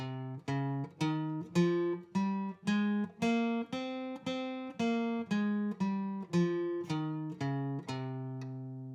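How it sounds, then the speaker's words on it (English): Single guitar notes climb a darker-sounding C Phrygian scale and descend again, evenly paced and clear, with the final note left to ring. "And now the C Phrygian scale would sound like this."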